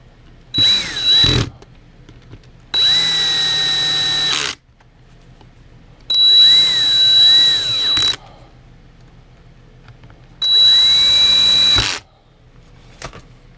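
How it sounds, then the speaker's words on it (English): An electronic screwdriver on a low torque setting drives gearbox screws in four separate whirring bursts of one to two seconds each, motor pitch shifting under load, loud and close with quiet pauses between. "if you're using an electronic screwdriver like I am, use the lowest torque setting"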